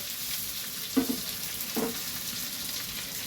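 Paneer pieces fry in oil for a shahi paneer pulao, giving a constant low sizzle with two brief stirring or turning scrapes, close by and without speech.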